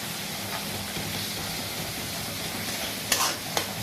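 Koi fish fry in a pan with a constant, dense sizzle of hot oil, broken near the end by a couple of sharp utensil clinks.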